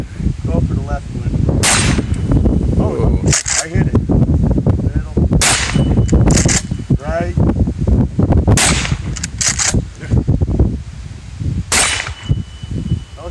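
Loud, close gunshots at small steel targets at an outdoor shooting range, a handful of sharp cracks spaced several seconds apart, with people talking between the shots.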